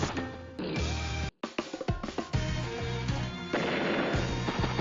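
A vehicle exploding after running out of fuel in Advance Wars: Days of Ruin, heard as a loud game-audio blast with crackling bursts over busy in-game music and effects.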